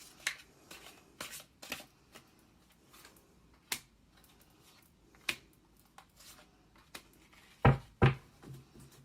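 Tarot cards being shuffled by hand at close range, a run of soft riffling rasps and sharp card snaps spaced irregularly, ending in two louder bursts near the close.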